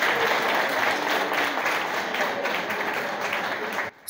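A gathering applauds warmly in dense, sustained clapping that fills the room for about four seconds before cutting off abruptly.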